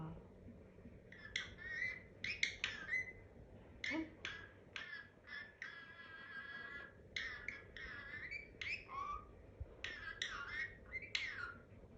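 A pet parrot letting out a series of bright whistles and squawks in quick bursts, close and clear over a faint background hum, with a person talking softly at times.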